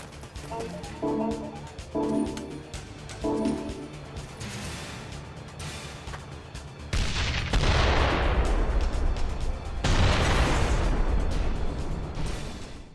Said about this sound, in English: A werewolf with a rocket launcher, of course.